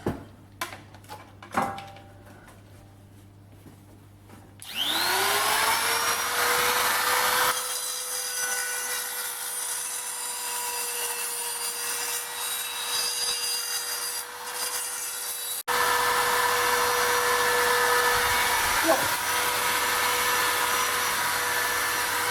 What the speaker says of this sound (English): And the Dremel will get closer to the aluminium.